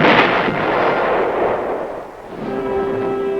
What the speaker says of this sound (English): And from the ground as giant 8-inch howitzers reinforced the air-mobile batteries.